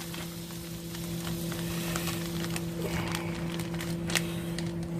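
Butter and olive oil sizzle in a hot pan as a crusted sous vide ribeye goes in to brown, a steady close crackling hiss with a low hum underneath and occasional sharper pops.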